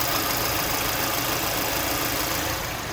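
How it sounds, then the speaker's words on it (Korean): Gasoline engine of a 2018 car idling, heard as a steady, even hum that runs unbroken and fairly close throughout, with no talking. "엔진 소리 한번 들려드리고 설명해드리도록 하겠습니다."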